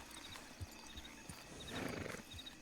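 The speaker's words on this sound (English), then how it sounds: "I'm gonna hazard a guess that that's Hades on the front of that horse." A horse at a stable in a Red Dead roleplay video game clops its hooves in a few spaced, fairly close steps, then gives a short snorting whinny, all at a quiet level.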